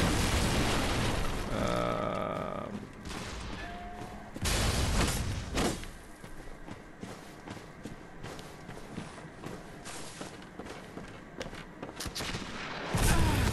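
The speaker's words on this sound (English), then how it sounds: "There's a guy shooting a cannon at me." Cannon blasts from an enemy in the Bloodborne video game, several loud booming explosions with sharp onsets and rumbling tails, the first few seconds busy with layered game effects and a final blast at the end.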